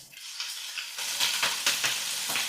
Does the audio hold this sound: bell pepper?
yes